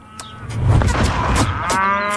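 Cows moo loudly in a farmyard sound effect, a low drawn-out bellow that swells and holds for about two seconds, close and without speech.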